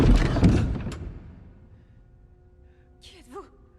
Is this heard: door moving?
yes